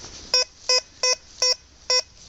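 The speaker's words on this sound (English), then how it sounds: "let's do a bit more detecting and see if we can find another nice signal" Metal detector signal beeps while detecting in Dorset woodland, five short, evenly spaced tonal bleeps about every 0.4 seconds, clear and close over faint background hiss.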